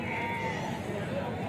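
Goats bleat at a weekly sheep and goat livestock market in Galiveedu, a faint cry rising over the murmur of the crowd and people talking nearby.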